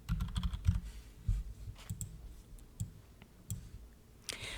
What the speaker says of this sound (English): So we'll click on text and I'm going to type in a script font.